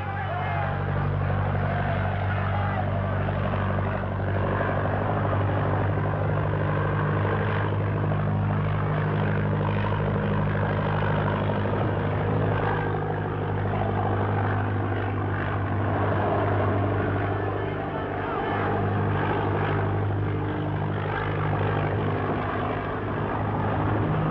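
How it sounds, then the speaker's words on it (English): A propeller airplane performing aerial acrobatics roars continuously and fairly loudly, droning with slight swells in pitch as it flies overhead. "in just one moment, Captain Brandy Rain will thrill you with an exhibition of aerial acrobatics such as only he can give"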